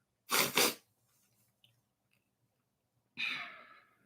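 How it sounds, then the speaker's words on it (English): A sharp double sneeze bursts out close up, followed a few seconds later by a breathy, sighing exhale, with near silence between. "I'm sneezing."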